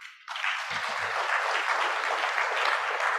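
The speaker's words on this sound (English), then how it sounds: "Let's give him a better clap than that." Conference audience applause at a science and technology gathering bursts in abruptly after a moment of quiet and holds steady and dense, with a brief low voice murmuring underneath early on.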